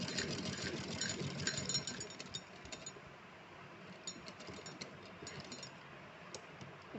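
A sewing machine stitches fabric for a small doll dress with a faint, steady mechanical whir and light clicking, quiet and continuous with no one talking.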